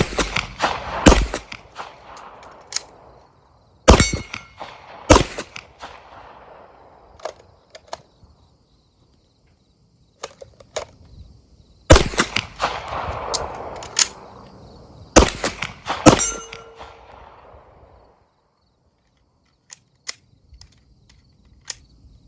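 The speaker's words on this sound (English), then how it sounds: "now I'm just going to run some drills transitioning back and forth between the two" Pistol shots ring out against steel targets during transition drills, firing in short separated bursts of sharp loud cracks with quiet gaps between them and a few faint clicks of handling near the end.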